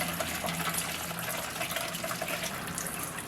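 Liquid, either water or fuel, pours steadily from a disconnected fitting on a Mazda RX-7 rotary engine, a continuous close splashing gush with no talk.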